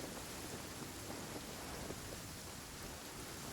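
Steady rain pours during a downpour in the video game Genshin Impact, a dense, continuous hiss that holds at an even level throughout with no voices.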